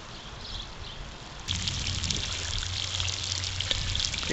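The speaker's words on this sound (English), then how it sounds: "So I got this big 55-gallon drum with the top cut off, and I'll just fill that up." Water pours into a large 55-gallon drum with its top cut off, a steady hissing trickle that swells louder and fuller after a moment, with a faint low hum beneath.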